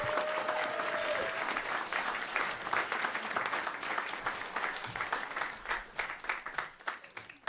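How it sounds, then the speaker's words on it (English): Audience at a regenerative agriculture celebration gives a speaker a full round of applause, dense and steady at first, then thinning into scattered claps as it fades toward the end. "Please give Brita a round of applause."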